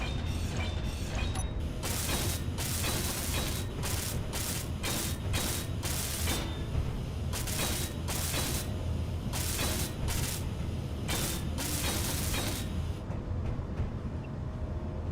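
Blocks being welded in the space building game Space Engineers, heard as a continuous mechanical grinding whir with repeated rhythmic pulses that swell and fade across the clip.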